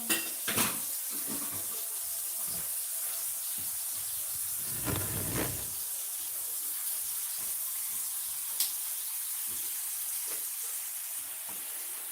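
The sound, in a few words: running tap water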